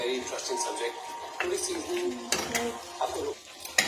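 Chicken being stirred in a cooking pot for a Bengali-style home-made curry, with repeated scraping and clinking of a utensil against the pot and talk running over it.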